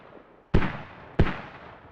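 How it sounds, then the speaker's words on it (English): Two mortar shells exploding in a squad match on the Logar Valley skirmish map, sharp booms about two-thirds of a second apart, each trailing off in a short rumble over quiet background. "Mortar again."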